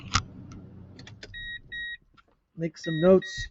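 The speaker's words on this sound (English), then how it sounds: "So let me shut the car off and make some notes." Keys jangle and the car is switched off, with a couple of short chime tones and a clunk, followed by close-up talking.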